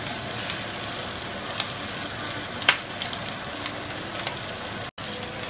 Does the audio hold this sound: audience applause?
no